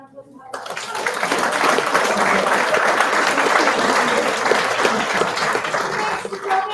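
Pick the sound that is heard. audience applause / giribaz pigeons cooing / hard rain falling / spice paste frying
audience applause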